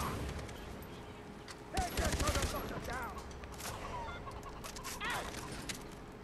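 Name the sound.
gunfire in Far Cry 3 video game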